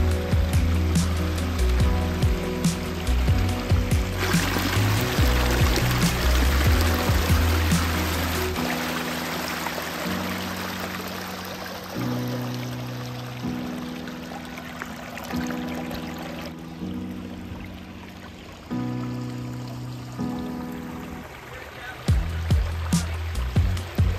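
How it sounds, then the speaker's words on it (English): Water pours steadily over a 10-foot pondless waterfall, a continuous close rushing splash that stays fairly loud throughout, with tonal background music layered over it. "It's about 10-foot pondless waterfall."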